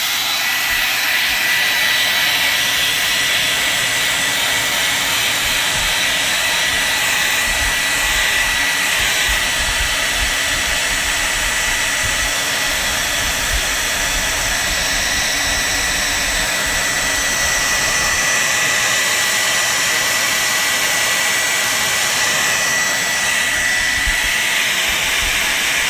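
A hair dryer blows hot air onto paint to make it crackle for an aged finish, a loud, steady broadband whoosh that runs unbroken and close throughout with no voices.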